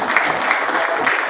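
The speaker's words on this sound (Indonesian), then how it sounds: "Tepuk tangan untuk kita semua." Applause from a crowd at the local PDI Perjuangan branch in Asahan, Indonesia, as a regent candidate registers, a steady dense clapping wash through the whole moment, fairly loud and close, with no pause.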